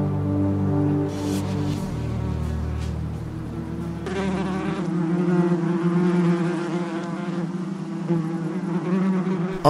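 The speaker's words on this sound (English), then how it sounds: "we caught one and tempted it with a bumblebee nest to see what would happen." Bumblebees in a nest give off a loud, continuous buzzing drone that shifts slightly in pitch partway through, with no voices.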